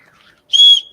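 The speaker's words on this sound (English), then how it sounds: "Little whistle." A small 3D-printed whistle gives one short, shrill, steady tone of about a quarter second, close and loud after a faint moment of near silence.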